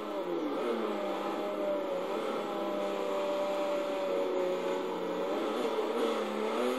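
A Pagani Huayra supercar in Forza drives along with a loud, steady engine drone and whirring tone that rises and falls slightly, continuous and close, with no talking over it.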